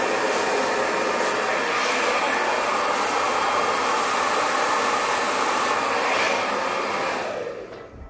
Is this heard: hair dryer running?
yes